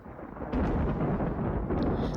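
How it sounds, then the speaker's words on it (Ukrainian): Thunder from a thunderstorm rolls as a low, heavy rumble that swells louder after a moment and keeps grumbling steadily, with no voices. "Це явище називається гроза, яка народжується у хмарах"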